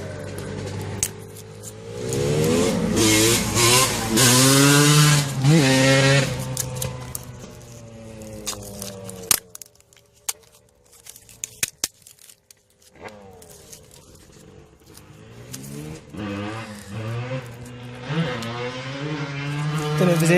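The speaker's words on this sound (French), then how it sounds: "la moto c'est sur un terrain de cross" A motocross motorcycle engine revs up and down on a dirt track in rising, falling whines, loud and close, with a quieter stretch of scattered clicks before it roars again.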